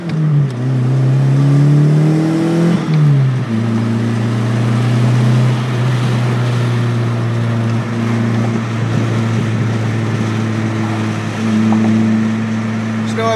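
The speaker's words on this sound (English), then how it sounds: "She do a burnout?" A turbocharged DSM car revs hard for a burnout, its engine climbing in pitch then settling into a loud sustained drone as the tires spin, close and dominant throughout.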